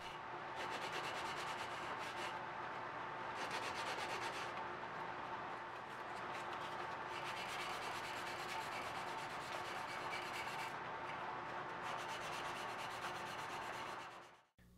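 A wooden knife handle is hand sanded with fine-grit paper, giving a continuous close scratchy rubbing with a few brief changes in stroke, steady and unaccompanied until it stops abruptly.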